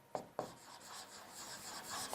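Handwriting on a board during a maths lesson: two sharp taps, then a soft, steady scratching of strokes over about two seconds. It is close and fairly quiet, with no talking.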